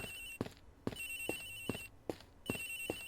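An electronic telephone ring in a video game repeats in short bursts with brief gaps, a steady warbling tone heard clearly on its own with no voices.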